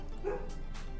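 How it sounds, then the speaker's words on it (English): A dog barks at someone out of view during a podcast recording, a short yipping bark heard faintly in the background of a quiet room. "my dog is barking at someone"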